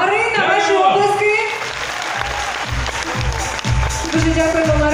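Concert audience clapping at a Ukrainian arts festival concert in Gomel, a dense broadband patter lasting throughout, with a voice and musical tones layered over the applause.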